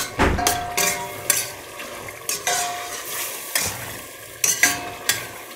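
Onion and meat fry in a pan for Turkish kuru fasulye bean stew, a steady soft sizzle broken by repeated scraping and clinking as the mixture is stirred, close and moderately quiet with no talking.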